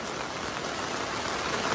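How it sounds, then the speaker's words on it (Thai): Heavy rain pouring during a storm, a dense, loud, unbroken roar of drops close by with no voices. "ฝนแรง"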